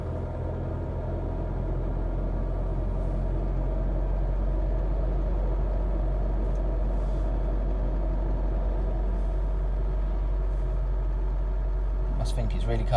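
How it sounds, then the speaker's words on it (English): An Isuzu D-Max fitted with an EGR delete module idles with raised revs on a cold start, a steady, continuous low engine drone heard close up. "They did say that the revs would rise on cold start, which it is."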